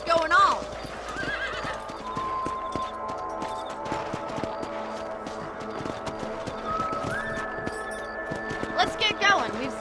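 Horses in the Western video game Red Dead Redemption, with rhythmic galloping hoofbeats and loud whinnies close by, mixed with game music and occasional character voices.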